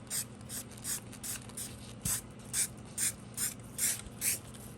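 Short hissing bursts of a spray paint can coating a model race track, about ten brief sprays in a steady rhythm, close and moderately loud over a low background hum.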